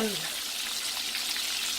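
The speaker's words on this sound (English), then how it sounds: "oh yeah, they're frying really good" Calamari and whiting fish frying in hot oil give a steady, dense sizzle and crackle throughout, close and continuous, with a brief voice at the very start.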